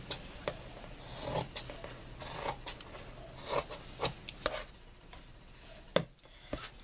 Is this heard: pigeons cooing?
no